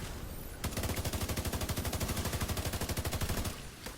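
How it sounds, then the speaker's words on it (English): Rapid automatic gunfire from The Division 2 rattles in a steady, loud burst of evenly spaced shots for about three seconds, cutting off abruptly after a brief quieter lead-in, with no talking. "I pretty much hit all headshots on this group of 4 and they just get annihilated."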